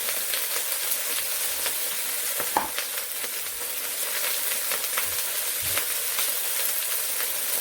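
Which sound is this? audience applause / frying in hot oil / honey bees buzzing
frying in hot oil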